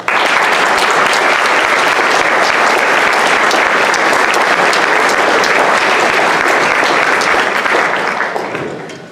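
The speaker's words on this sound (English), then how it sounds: "I think everyone here deserves a great big round of applause" Loud, sustained applause from a large audience honoring Honor Flight veterans at a recognition ceremony, dense and unbroken for nearly nine seconds before tapering off at the end.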